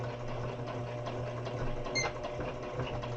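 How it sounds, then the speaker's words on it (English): Sewing machine stitching the raw edge on the back of a cloth doll, a steady low mechanical whir with a fast even needle rhythm, close and fairly quiet. "I'm stitching the raw edge on the back. That's what I'm doing right now."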